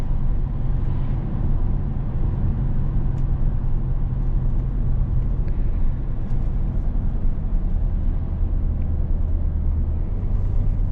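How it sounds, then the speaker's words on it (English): Steady low engine drone and road noise from the cabin of a 2008 BMW 328xi E90 with an inline-six engine while driving, continuous and even throughout with no talk. "I love the sounds it makes from the inline 6-liter too."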